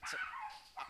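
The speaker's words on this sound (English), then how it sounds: "That was the dog being let out." A dog barks faintly in the background indoors, two short distant yips under a second of quiet.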